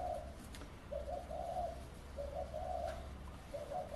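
Doves coo in soft, repeated phrases at a moderate distance, three rounded bursts spread over a few seconds against steady low background hum from a workshop setting.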